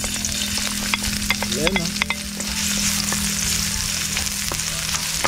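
Garlic, onion, chili and ginger stir-fry in hot oil with a loud, dense sizzle and repeated utensil scrapes and clicks, a voice briefly speaking over it.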